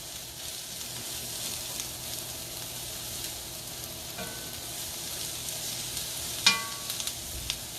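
Red cabbage caramelizing in an oiled pan, with a steady soft sizzle close by and a few light scrapes and clinks of stirring near the end, no voices.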